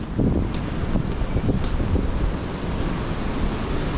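Strong wind buffeting the microphone in a constant roar, with a surf-like rush and occasional gusts.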